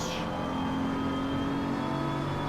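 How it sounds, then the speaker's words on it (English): BMW GT3 race car engine in a racing sim game, a steady loud high-pitched drone with a constant whine and no talk over it. "Listen to that BMW."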